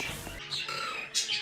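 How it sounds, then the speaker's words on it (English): Birds outdoors chirp faintly in the background, giving a few brief, high tweets over a quiet, murky backdrop. "Birds are a little bit loud right now,"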